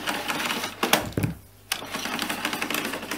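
The cable of a 1980 Hoover Concept One vacuum is pulled out, giving a rapid mechanical rattling and clicking that stops briefly, then resumes, close and fairly loud.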